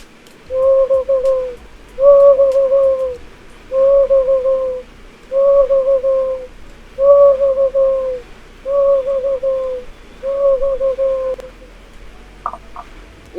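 A bamboo folk instrument imitates a dove's cooing, giving seven evenly spaced, moderately loud coos in a steady rhythm, each a short, level two-tone call, followed by a faint brief sound at the end.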